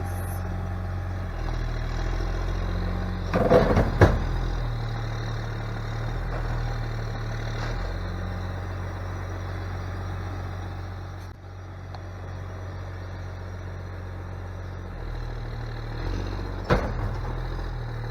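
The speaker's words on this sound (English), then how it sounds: "He is going to pull the trailer out sideways" A vehicle engine runs steadily at low revs while pulling a homemade storage-box trailer out sideways, a continuous nearby rumble with a couple of brief louder bumps and clatters.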